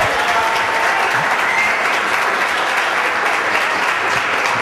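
A college cheering squad applauds and cheers at a City College student panel event, steady dense clapping from a crowd filling the whole stretch at a loud, even level.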